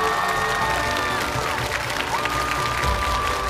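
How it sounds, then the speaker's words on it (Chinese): Studio audience applauding at a televised international cultural variety show, dense continuous clapping with some cheering, loud and unbroken for a few seconds. "热烈的掌声欢迎各位。"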